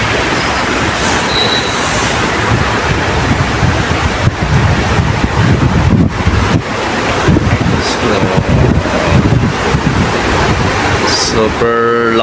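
Strong wind buffets the microphone over the continuous rushing roar of large ocean waves in bad weather, loud and sustained throughout.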